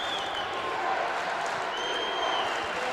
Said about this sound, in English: You hear the crowd getting excited